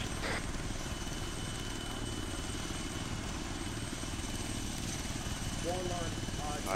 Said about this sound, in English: we all need to load into the helicopter now and get us dusted off